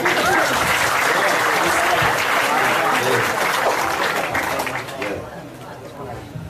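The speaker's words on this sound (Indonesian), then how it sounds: "Ya, tepuk tangan." An audience claps in a lively burst, dense applause mixed with voices that tapers off toward the end.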